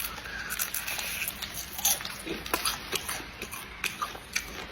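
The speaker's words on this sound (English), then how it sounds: "If you can get over the fact that they're bugs, they just taste like a crispy, crunchy snack." Someone crunching on crispy fried insects, a series of close, irregular bites and chews with short crackling bursts over a quiet room background.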